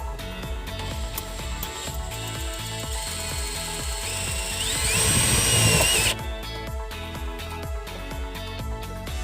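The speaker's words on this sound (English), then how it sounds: "there's nothing that I'm going to hurt at all by drilling into this panel here." A power drill drilling into a metal panel on a 2014 Buick Verano whines for a second or two, its pitch rising, over steady rhythmic background music.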